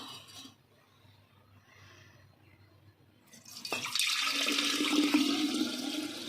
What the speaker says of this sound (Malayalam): ഇതാണ് നമ്മളൊരു കുപ്പിയിലേക്ക് ഒഴിച്ചു കൊടുക്കുകയാണ്